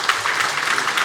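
A church congregation applauds during a Sunday morning worship service, a short, dense wash of many hands clapping at steady loudness with no voices over it.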